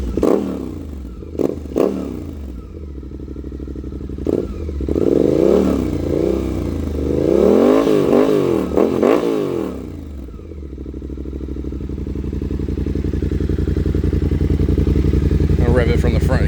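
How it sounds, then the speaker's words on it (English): Suzuki GSX-8S motorcycle with a Delkevic full exhaust, a close engine idling with several sharp throttle blips, then a rising and falling rev and a steady, deepening rumble, with someone talking briefly over it. "Rev it from the front here."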